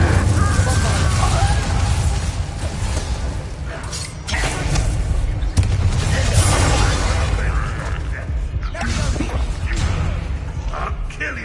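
Incendio fire spell cast in the video game Hogwarts Legacy during a fight, its fiery bursts buried in a dense, continuous wash of loud combat effects and rumbling game sound.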